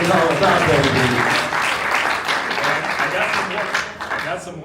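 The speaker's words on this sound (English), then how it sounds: "Just give them a round of applause today." Audience applause during a Cal men's basketball livestream preview: a dense, sustained wash of clapping from a crowd, loud and steady for several seconds before tapering slightly, with a voice talking over it.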